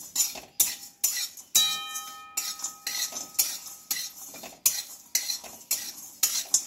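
Puffed rice stirred in a hot pan on a gas stove, a rhythmic series of rustling, scraping strokes as the spoon sweeps through the dry grains, with a brief metallic ringing near the middle.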